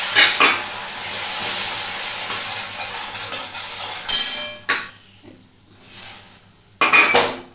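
Caramel cooks in a pan with a little water, a close, loud bubbling hiss broken by spoon scrapes and clinks against the pan, with sharper bursts near the end and no talk.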